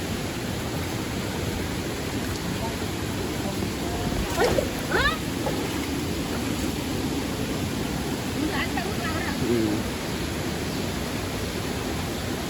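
Floodwater from a river swollen by heavy rain rushes in a steady, dense broadband roar, with a few faint voices briefly audible over it.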